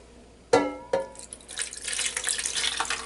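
Liquid poured over a pork loin in a slow cooker, starting with two sharp splashes and turning into a continuous trickling pour that builds steadily, close by.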